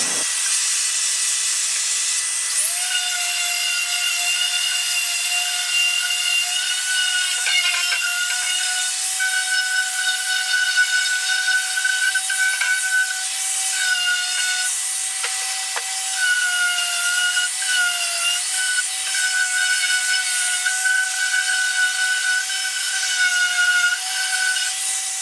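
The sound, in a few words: sander connected to shop vac, woodworking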